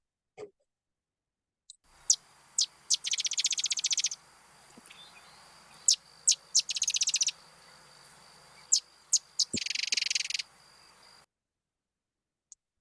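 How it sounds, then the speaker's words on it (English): A sedge wren in a marsh sings three separate songs, each starting with a few sharp, high introductory notes and ending in a dry, mechanical sewing-machine rattle, clear against a quiet background. "that more mechanical sewing machine rattle with the intro notes from the sedge wren"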